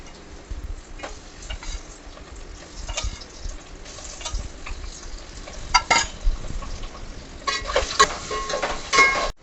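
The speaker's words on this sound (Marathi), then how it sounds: "ज्या तेलामध्ये आपण कांदा तळून घेतला त्याच तेलामध्ये ही अंडी आपण फ्राय करून घेणार आहोत" Eggs frying in the same oil used to fry onions for egg biryani, a soft crackle with scattered ticks and clicks that grows louder near the end, close with no voices.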